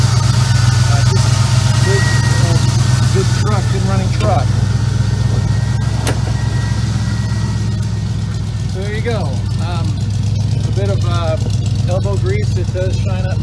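A 1977 Ford F150 short-box pickup runs with a steady, loud low engine drone throughout, while birds chirp intermittently in the background.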